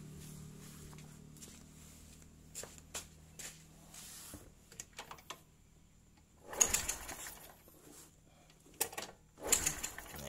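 A carbureted Honda Revo motorcycle is kick-started without the ignition key, for a CDI check; rhythmic mechanical clatter comes in short bursts as the engine catches and runs briefly, fairly quiet overall.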